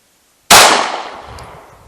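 A single 9mm Super Vel 115 grain jacketed hollow point round fired, one sharp loud crack after a moment of silence, trailing off in a fading echo.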